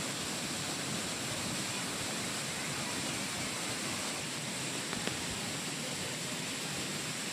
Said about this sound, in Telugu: కొండ మీద నుంచి నీరు జారుతున్నట్టు మోటార్లు పెట్టి నీళ్ళు వేసి సెట్ వేసారంట